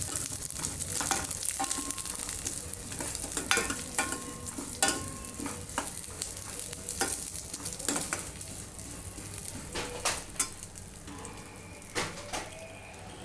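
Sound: roasting vermicelli, stirring in a hot pan

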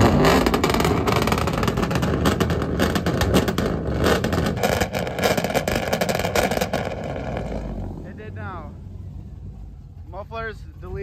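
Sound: Chevrolet Silverado engine revving with mufflers removed, MSD 2-step

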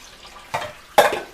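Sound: water being poured into the cooking

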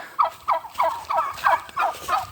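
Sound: turkeys gobbling

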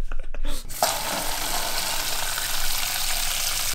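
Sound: water poured into a small plastic bowl

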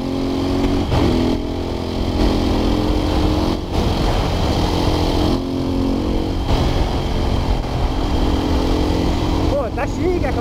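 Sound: Husqvarna 510 SMR motorcycle engine running

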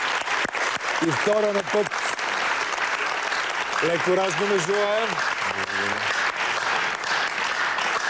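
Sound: studio audience applause on a game show

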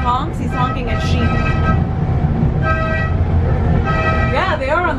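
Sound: mountain train horn honking at sheep on the track

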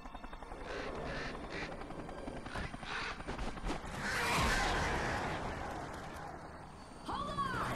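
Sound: crows cawing in Alan Wake Remastered video game

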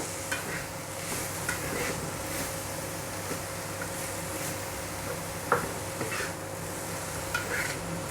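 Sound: stirring grated beetroot in a pan

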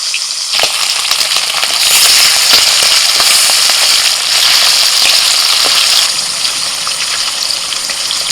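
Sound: hilsa fish pieces frying in oil

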